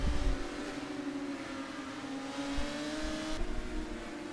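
SRM F3 race cars warming up their tyres at Hockenheimring, a steady engine drone holding a sustained pitch with slight revving shifts, somewhat distant and under a continuous trackside hum.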